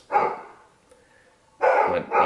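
Pet dogs bark at a stranger walking along the street outside, two loud bursts of barking separated by a quiet pause.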